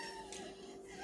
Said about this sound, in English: And that's my cat complaining.